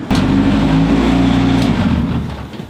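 A cheap Honda Civic bought off eBay accelerates hard down a quarter-mile drag strip, its engine a loud, sustained, strained roar that holds steady before easing off near the end.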